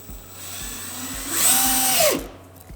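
An 18V cordless drill, either a Ryobi ONE+ or a Milwaukee M18, spins up and winds down with a high whirring whine, close and alone, over a faint ticking background.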